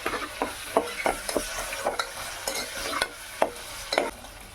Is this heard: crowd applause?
no